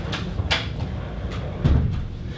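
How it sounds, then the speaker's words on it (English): A door in a meeting room being closed: a few light knocks and clicks, then a duller thud near the end, over a low room rumble with no voices. "You can maybe close the door."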